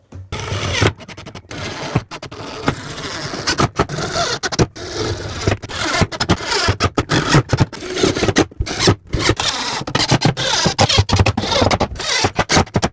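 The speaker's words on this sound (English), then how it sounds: "I think it's time to screw it in." Screws are driven into a desk during assembly in a long run of close, rasping, scraping bursts with brief pauses between them, and no talking.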